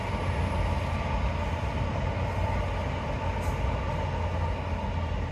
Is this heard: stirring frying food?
no